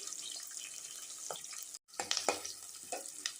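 Sliced onion and green chilies frying in a pan for a cabbage tomato curry, a steady close sizzle with brief stirring clatters and a short silent gap midway.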